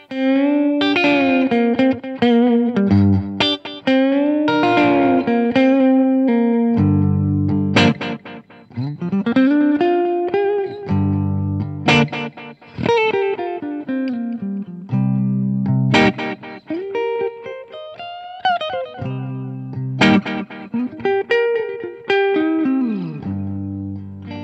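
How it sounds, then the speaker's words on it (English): An electric guitar plays phrases through a delay pedal whose echo is swept with an expression pedal, loud and alone, each note trailing repeating echoes that swell into spacey, smeared tails. "the toe forward position will be this big spacey intense echo"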